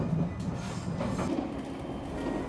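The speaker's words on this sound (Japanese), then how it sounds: "横手駅へと入線していきます。" Train pulling into Yokote station in Japan: a steady, close rumble of rolling wheels and carriage noise, with no voices.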